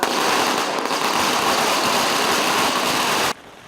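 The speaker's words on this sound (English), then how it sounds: "People light up firecrackers as they see a large black tuna brought up to shore." Firecrackers set off at a harbour as a large black tuna is landed, a dense, continuous crackling barrage that stays loud and steady for over three seconds before cutting off abruptly.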